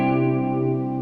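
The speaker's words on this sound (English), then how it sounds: "Now here's the add 9." An electric guitar rings out a single sustained add 9 chord, treated with a chorus-like effect, steady and clear with no voices.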